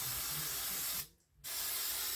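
Two aerosol bursts of polyacrylic protective finish onto glasses set in a box indoors, a loud close hiss broken by a short pause, with no talking.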